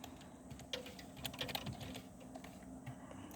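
Password keystrokes on a computer keyboard during church live-streaming equipment setup, a quick irregular run of light clicks, fairly close, over a steady low room hum with no talking.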